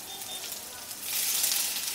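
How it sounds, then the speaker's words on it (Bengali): Chopped garlic hits hot oil in a pan for Bengali tomato rice, a bright hissing sizzle that swells louder midway and keeps crackling steadily, close up. "রসুন কুচি, দিয়ে দিচ্ছি এর মধ্যে"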